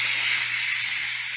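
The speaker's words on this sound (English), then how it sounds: "after 10 minutes, quick release remaining pressure" Steam hisses hard and steady from a Ninja Foodi pressure cooker during quick pressure release after cooking risotto, a loud, continuous, high-pitched rush with a faint low hum beneath, unbroken for the whole moment.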